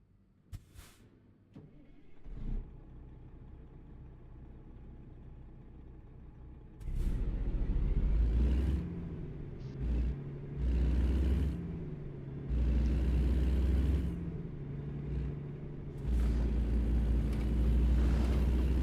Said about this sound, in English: It's been a hot minute since I've driven just a stock Kenworth like this.